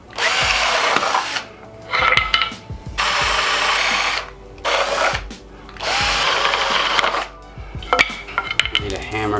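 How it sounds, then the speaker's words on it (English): A handheld power drill bores holes into the wooden arms of a homemade laptop stand, whining in several separate bursts with short quiet pauses between them, close and loud. "We'll have to drill holes into our arms."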